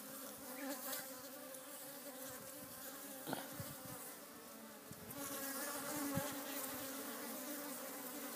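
Many leafcutter bees buzz close by around a hive in a dense, continuous drone, individual insects swelling and fading as they fly past.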